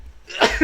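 A man's sudden sneeze bursts out near the mic, a sharp explosive blast with a brief follow-up, right after a few quiet spoken words.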